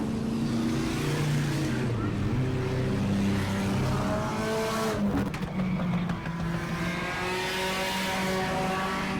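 Race cars circle Auburndale Speedway in an enduro race, their engines rising and falling as they pass by with sweeping changes in pitch, loud and close, over announcer commentary.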